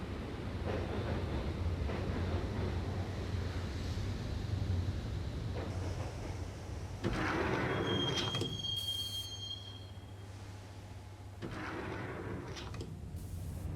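A subway train ride in the Max Payne game: a constant loud rumble of rolling wheels, with a high metallic squeal of wheels on the rails partway through, then a quieter steady rumble.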